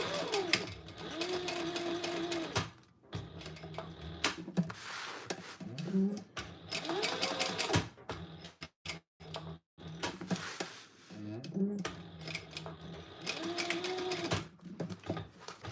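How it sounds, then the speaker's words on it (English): A sewing machine runs in several fast rattling bursts, backstitching and going forward again, with short pauses and clicks between runs and occasional quiet talk. "I'm going to backstitch"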